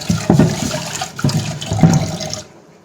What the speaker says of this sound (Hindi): अब हम धो देंगे फटाफट से पैन